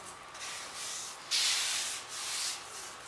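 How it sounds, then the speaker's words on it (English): Steady rubbing of a paint mask being pressed onto a surface, a soft continuous scraping hiss that swells in a few passes, with one brighter, louder stroke partway through; no talk. "we don't want to rub these down super good, except for where the stars are."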